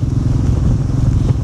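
A motorcycle carrying two riders on a mountain road from Kathmandu toward Manang rumbles steadily up close, with a low continuous engine drone and slight rattling throughout.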